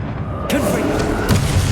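Two booming Confringo fire-spell blasts, one after the other, go off in a Hogwarts Legacy battle against Ranrock, loud over the steady rumble of combat.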